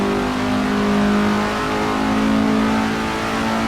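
A race car engine in Assetto Corsa revs steadily and loudly, holding a sustained droning pitch with slight rises, heard on its own without talk.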